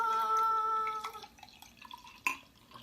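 Coffee kombucha poured into a glass in a home kitchen, a short steady trickle of liquid that fades out, followed by a faint clink near the end.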